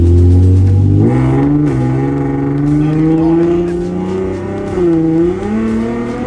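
Loud modified Datsun 521 pickup truck accelerating hard, its engine revving up close and heavy inside the cab, pitch climbing steadily with a brief shift dip before pulling again.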